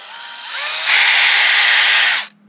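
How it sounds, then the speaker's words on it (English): A Makita power drill whirs inside a tiny off-grid building, a close, loud high-pitched spin that rises in speed after a moment, holds steady for over a second, then cuts off abruptly. "now we're ready to drill holes"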